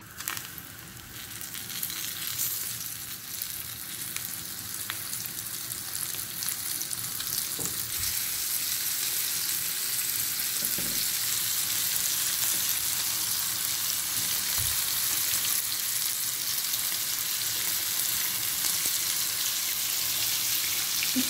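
Oil frying in a pan for chicken meatballs, a dense, steady sizzle that builds and holds loud and even throughout, with faint clicks of utensils early on.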